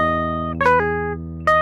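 Sustained electric guitar chord with a couple of sharp picked strums, clean and close, ringing out between attacks, in a rhythm style.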